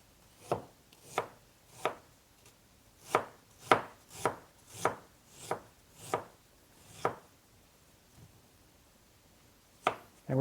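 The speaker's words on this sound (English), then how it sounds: "So I said we wanted slices, so we're going to go ahead and slice them." Knife slicing fresh ginger on a cutting board, about a dozen crisp, evenly spaced chops, close and clear with no one talking.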